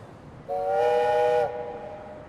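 A boat horn in the city-building game Tropico 6 blows one clear, loud, train-whistle-like chord for about a second over a quiet background, then fades away.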